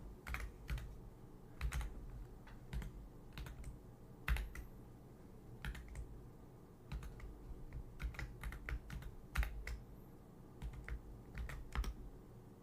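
Quick, irregular bursts of keystrokes on a computer keyboard as a password is entered, close and fairly quiet, with short pauses between clusters of key taps and no talking.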